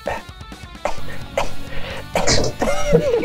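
A voice close by imitates a character coughing up blood during a tabletop game, a run of harsh, gurgling coughs and throaty splutters in uneven bursts.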